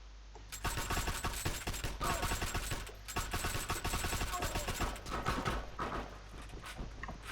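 Gunfire in the online war shooter Heroes and Generals: dense, rapid volleys of loud shots crackling almost continuously for several seconds, with brief lulls between bursts.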